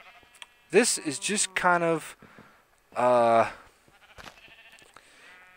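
Minecraft sheep bleat on a farm, several quavering cries in quick bursts, then a longer loud bleat, with a player talking briefly at the end.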